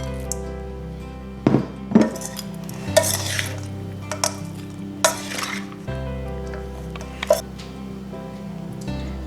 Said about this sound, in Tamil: இப்போ நம்ம சுட்டு வச்சுருக்க இந்த கோபி மஞ்சூரியனை எடுத்து இந்த ஃப்ரைட் ரைஸோடு சேர்த்து மிக்ஸ் பண்ணிக்கலாம்